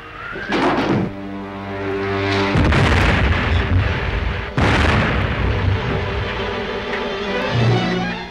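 Bombs dropped from one of Ming's ships blast in a loud, sustained roar of explosions, several heavy booms rolling together and swelling and fading across the stretch with no talk over them.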